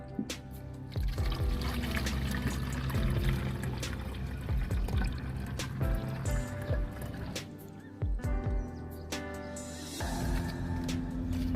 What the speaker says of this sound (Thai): เราใช้ใส่กระป๋องป๊อกกี้เลยครับ แต่เราจะต้องทำการกรองกันก่อนนะครับ